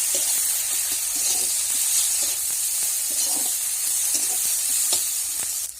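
Ginger garlic paste, red chilli powder and turmeric fry in hot oil in a pan, giving a loud, dense sizzle and hiss with light scraping clicks of stirring throughout.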